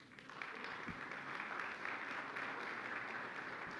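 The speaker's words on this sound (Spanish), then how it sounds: "Aquí es donde le da un aplauso al Señor Jesucristo." A church congregation claps steadily throughout, a dense, even wash of hands at moderate room distance with no voices over it.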